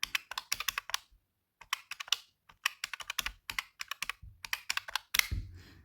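Calculator buttons are pressed in quick, irregular runs of crisp plastic clicks, close and fairly quiet, broken by a short pause and ending with a firmer tap and a faint rustle.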